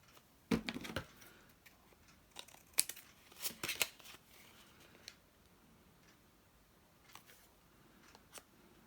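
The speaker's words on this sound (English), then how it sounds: "And use my card again to cut off the angles." Scissors snip the corners off a paper pocket tag: a few sharp close cuts in quick clusters, then sparse faint clicks in a quiet room.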